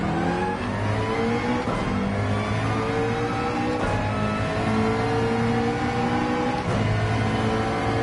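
A McLaren race car in Gran Turismo 7 at Spa revs loudly through repeated gear changes, its engine pitch climbing then dropping at each downshift, steady and close throughout with no talk.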